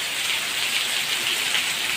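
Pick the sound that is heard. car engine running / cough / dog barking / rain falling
rain falling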